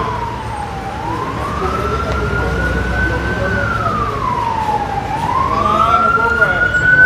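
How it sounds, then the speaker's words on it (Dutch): A wailing siren rises and falls slowly, loud and steady, over constant traffic rumble on a busy street in Paramaribo. "Dan een sirene."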